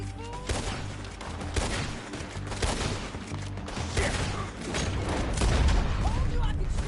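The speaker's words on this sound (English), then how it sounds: "Told you I could shoot a gun, didn't I?" Gunfire in Red Dead Redemption 2 during a story shootout, a volley of shots, some loud and near, some overlapping into a steady fusillade over rumbling game sound, with a voice briefly heard underneath.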